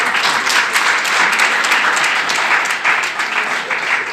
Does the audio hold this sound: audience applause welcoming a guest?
yes